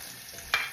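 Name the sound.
chopped onions thrown into pan sizzling for oyster stew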